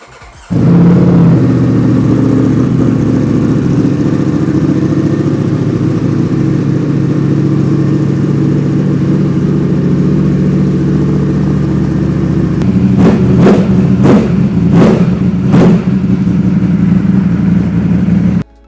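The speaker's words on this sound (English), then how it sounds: "Let's start with the quieter of the two, 2023 Panigale V4 with Terminoni slip-ons and an up map" A 2023 Ducati Panigale V4 with Termignoni slip-on exhausts and an up map fires on a cold start, settling into a loud, deep, steady idle, then four sharp throttle blips near the end before cutting off.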